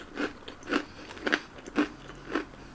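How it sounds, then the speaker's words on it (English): Crunchy salted pretzels filled with peanut butter are bitten and chewed up close, five distinct crisp crunches spaced about half a second apart over quiet background. "You get the salty crunchiness of the pretzel."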